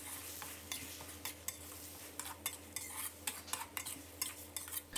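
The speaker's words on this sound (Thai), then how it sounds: "แล้วก็ให้เราใส่น้ำเปล่าลงไปสักเล็กน้อยนะครับแล้วก็ผัดต่อจนมะเขือเทศของเราสุกเลยนะครับ" Tomatoes being stir-fried in a pan with a splash of water give a quiet, steady sizzle broken by frequent sharp scrapes and clicks of a spatula or spoon against the pan, in an irregular rhythm throughout.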